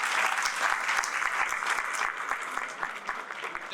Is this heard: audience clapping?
yes